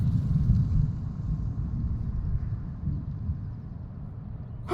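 Low, continuous rumbling thunder from an arcus storm rolls on in the distance, steady and muffled, with no voices.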